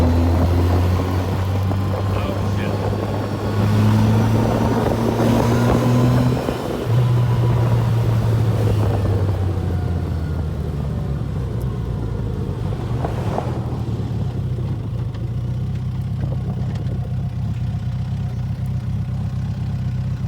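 A steady, loud low engine drone from an FRJ1300 Trooper motorcycle with a modified exhaust being ridden, its pitch shifting up and down slightly as it cruises, with wind noise layered over it.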